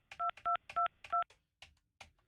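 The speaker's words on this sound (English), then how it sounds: "I don't know if our phones are even dialing out now" Touch-tone telephone dialing out on a studio phone line: four crisp dual-tone beeps in quick, even succession, followed by a few softer clicks and faint noises in near silence.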